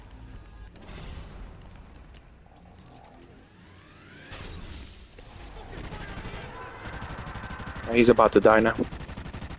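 Gunfire in the video game Exodus, a rapid burst of loud shots aimed at an enemy, rising near the end over a steady game backdrop while someone talks.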